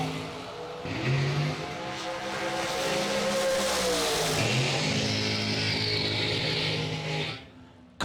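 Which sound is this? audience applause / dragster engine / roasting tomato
dragster engine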